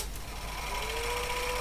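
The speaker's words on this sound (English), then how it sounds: "We'll power up the printer" HP 9120A calculator printer running after power-up, a steady mechanical whir with tonal lines and a rising pitch, fairly loud and continuous, no talk.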